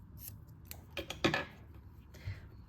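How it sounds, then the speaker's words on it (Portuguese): Scissors snipping crochet yarn while making an oval crochet bag, a few quiet close metallic clicks and one crisp cut in the middle, alone without talk. "vou cortar este fio"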